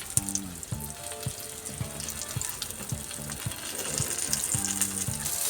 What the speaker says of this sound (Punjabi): ਹੁਣ ਅਸੀਂ ਫਿਰ ਤੋਂ ਉਸੇ ਪੈਨ ਵਿੱਚ 2 ਚਮਚੇ ਸਰੋਂ ਦਾ ਤੇਲ ਪਾਤਾ ਜੀ ਤੇ ਬਾਕੀ ਦੇ ਬਚੇ ਹੋਏ ਬੈਂਗਣ ਵੀ ਆਪਾਂ ਫਰਾਈ ਕਰਕੇ ਤਿਆਰ ਕਰਦੇ ਹਾਂ